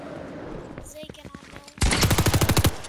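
Rapid automatic gunfire in Fortnite rattles out in a loud, fast burst of about a dozen evenly spaced shots, preceded by a few scattered shots and game sounds, with voices talking in the background.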